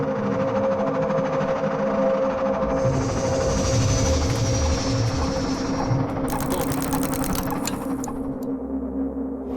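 A train pulling into Gare d'Austerlitz in Paris, with a steady loud rolling rumble, a sustained high whine partway through and clattering rail noise near the end, without voices.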